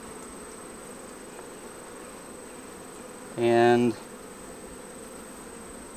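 Honey bees buzzing around a hive in summer, a steady soft insect hum throughout with a thin high whine, broken briefly by a short louder tonal burst near the middle.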